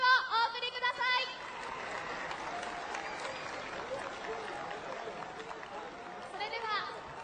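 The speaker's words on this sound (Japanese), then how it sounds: "今一度盛大な拍手をお送りください。" Spectators at an auto race track applaud as riders are introduced before a Grand Prix final, a moderate steady patter with a voice over a loudspeaker at the start and again near the end.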